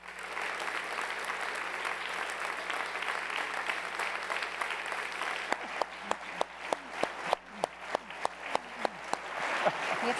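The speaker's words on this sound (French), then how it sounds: "Je pense que les chefs méritent une bonne main d'applaudissements." Audience applause at a Montreal municipal election debate fills the clip, a steady clatter of many hands, then thins into a few separate loud claps toward the end before swelling again.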